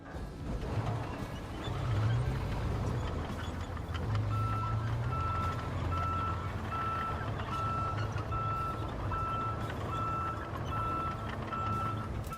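A stump grinder truck deploys in the RoadCraft video game, its steady reversing beeps repeating at an even pace over a low, constant engine rumble with no talk.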